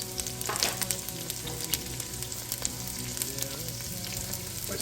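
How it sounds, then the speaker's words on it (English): Onion, pepper and four stalks of celery sautéing in a Le Creuset pot, a close, steady crackling sizzle with scattered pops and light stirring scrapes, no talking. "And what I'm going to do is saute this."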